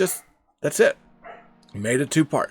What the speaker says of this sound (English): you can hear my dog in the background as well